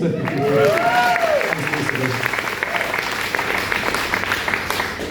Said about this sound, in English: A round of applause for Felicity.